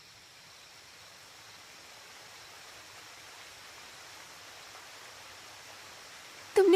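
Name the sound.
waterfall rushing water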